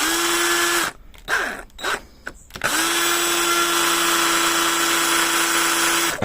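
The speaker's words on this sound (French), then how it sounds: "Et je perce." Power drill with a 4 mm bit boring into a screw on the grille steps of a Mercedes Actros MP4 truck, a steady high electric whine that stops briefly, restarts in short bursts, then runs on continuously, close and loud.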